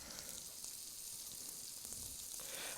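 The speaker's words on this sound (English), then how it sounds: "Let's get this spread out through the oil so that everything's getting cooked evenly." Pad thai noodles fry in oil with a steady, close, even sizzle and crackle that hisses continuously with no talking.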